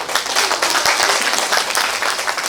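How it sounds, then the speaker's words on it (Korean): A hall audience at a village-development forum gives a steady, close burst of clapping to welcome a lecturer. The applause is continuous and uniform with no voices over it. "큰 박수로 환영해 주시기 바라겠습니다"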